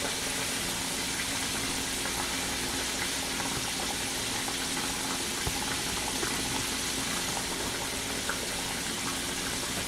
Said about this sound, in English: I let that water come up to a little bit of a boil